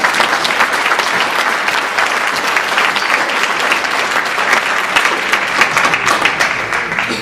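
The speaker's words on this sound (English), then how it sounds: "That always gets applause." Talent show audience breaks into loud, sustained applause, a dense wash of clapping from a large crowd that holds steady for several seconds with no one speaking over it.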